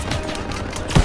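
Gunfire crackles in Call of Duty WWII, a short, dense run of shots with a heavier burst at the very end.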